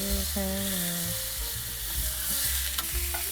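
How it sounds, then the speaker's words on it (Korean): Frozen pork sizzles and crackles steadily as it fries in a pan, a close, continuous hiss with a few sharper pops and no voices. "천천히 고기를 녹이면서 굽겠습니다."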